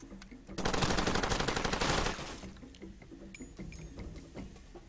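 In the video game Far Cry 2, a weapon fires a fast, loud automatic burst for about two seconds, then the clip settles into quieter background game sounds with faint clinks.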